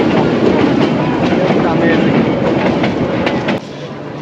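A moving train on the Kalmakanda line roars with loud, steady, close rumble and clatter, as if heard from atop the locomotive, with rhythmic wheel clicks throughout and a slight drop in level near the end.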